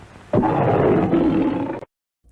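A lion roar sound effect bursts in loud and close, a rough, throaty growl holding for about a second and a half before stopping abruptly into silence.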